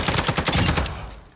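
Turret gunfire in Modern Warfare 2's DMZ mode: a rapid burst of loud, close automatic shots that stops abruptly, leaving a fading tail.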